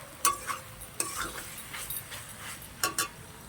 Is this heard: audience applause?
no